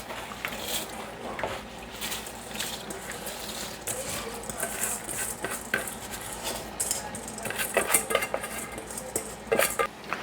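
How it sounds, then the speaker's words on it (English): Washed rice goes into a cooking pot with oil for curry chicken feet. Close, steady patter and rattle of grains mixes with clinking utensils and metal pot clatter. "And now we're gonna add the rice."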